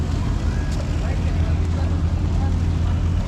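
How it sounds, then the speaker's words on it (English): A small tender boat motors across the water toward a cruise ship, its engine a steady low drone with rushing wind and water noise that continues without a break. "So we get into our little tender and we head over to the boat"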